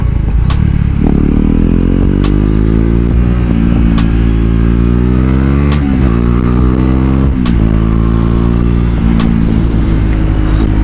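A Husqvarna Vitpilen 401 single-cylinder motorcycle engine thumps and revs up and down repeatedly, loud and close, running continuously throughout.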